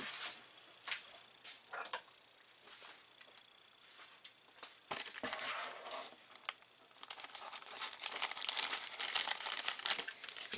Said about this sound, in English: let me cut this bag open